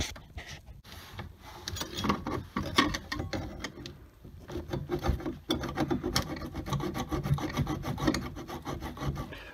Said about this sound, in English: I'm just using a Sawzall blade, multi-purpose metal Sawzall blade, and a vice grip to cut it off.